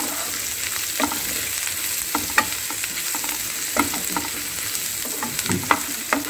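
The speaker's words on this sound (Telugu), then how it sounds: "ఈ మిశ్రమాన్నంతా ఒకసారి కలిపేసి" A spoon scrapes and taps as cucumber chutney mixture is stirred in a pan, irregular clicks over a steady soft sizzle of frying.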